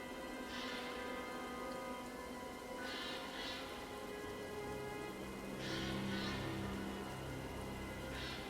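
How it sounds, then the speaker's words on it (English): Scattered rain sprinkles sizzle on a smoldering funeral pyre as its flames die down, a steady hiss with soft bursts of drops and crackle recurring every few seconds at an even, moderate level. "scattered sprinkles of rain sizzle on the smoldering pyre"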